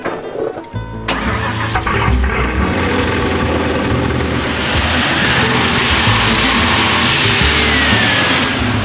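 A chassis-swapped Ford Mustang engine starts and runs loudly nearby, with a steady rough rumble and a loud hissing, whooshing blow-off valve release rising over it.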